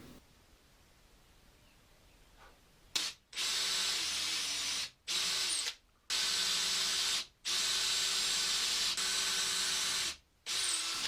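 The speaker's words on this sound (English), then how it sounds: "with a smaller drill bit I'll drill the remainder of the string holes through from the back" A power drill whirs in several sustained bursts, stopping briefly between each, after a quiet start, drilling string holes through a guitar body; loud and close with a steady high-pitched grind.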